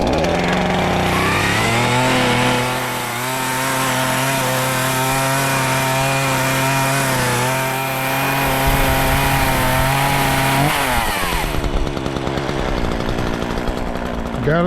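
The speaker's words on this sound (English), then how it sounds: "Gotta let them saws warm up some, y'all. But I just want to test this chain out." A Craftsman S 180 chainsaw with a freshly replaced chain runs close and loud, idling with a steady buzzing drone as it warms up, then its pitch shifts and roughens near the end.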